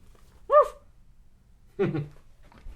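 A dog gives two short, separate barks, close and fairly loud, with quiet pauses around them.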